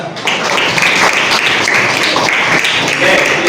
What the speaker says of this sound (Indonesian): Tepuk tangan untuk Andra.